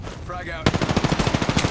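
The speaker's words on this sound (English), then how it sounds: "Shots fired, and they're hitting me." Rapid automatic gunfire in a video game rattles out in a steady burst of sharp, loud shots after a brief muffled lead-in, with rounds striking the player.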